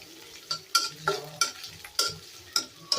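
Vegetables with green chillies frying in a pan with a spatula scraping and clinking at a steady rhythm, about twice a second, over a soft sizzle.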